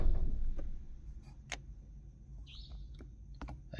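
Faint bird chirps and a brief whistled call rise over a steady low rumble in a forest at night in Nawegaon national park, with scattered ticking clicks.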